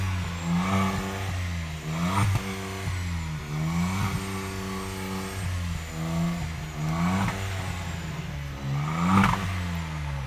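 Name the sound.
car with louder sporty exhaust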